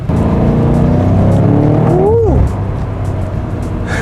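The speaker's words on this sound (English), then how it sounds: "we're going for a drive in the BMW M5" An F90 BMW M5 drives with a loud, steady engine roar, then a brief rising-and-falling revving sweep as it accelerates, with someone talking over it.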